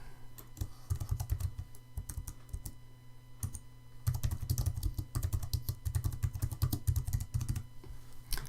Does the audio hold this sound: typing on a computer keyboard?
yes